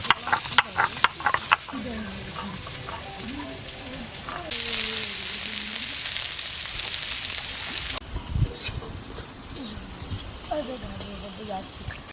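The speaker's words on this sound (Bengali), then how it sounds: "পেঁয়াজ ভাজা ভাজা হয়ে গেছে।" Onions and green chillies fry in a pan for a chicken curry, giving a steady hiss and sizzle, with a person talking over it in several stretches.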